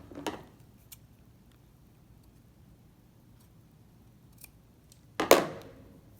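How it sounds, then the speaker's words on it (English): Scissors trimming loose thread from a sewn cat finger puppet: one crisp snip near the start and a louder, closer snip near the end, with quiet handling between and no talking. "there's some more thread we can trim. Let's do that now."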